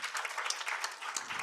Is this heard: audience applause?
yes